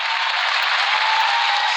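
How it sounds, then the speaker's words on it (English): A round of applause fills a climate conference hall, a dense steady wash of many hands clapping at once, loud and sustained without a break. "That got a bigger round of applause than the president's speech"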